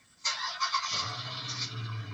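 A car's engine cranking and catching as a thief starts the stolen vehicle with a relay device, a brief starter whir followed by a steady low idle rumble, close and moderately loud with no voices.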